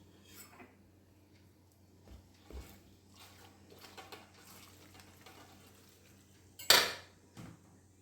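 Jackfruit batter with salt being stirred in a pot, quiet scraping and clinking of a spoon against metal, with one sharp louder clank near the end and no voices.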